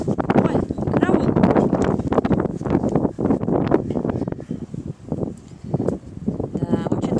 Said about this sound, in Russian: порывы ветра такие, что вот чуть я стою